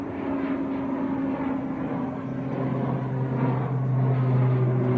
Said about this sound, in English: Logan Air just getting airborne. ATR 72, is this our first prop today?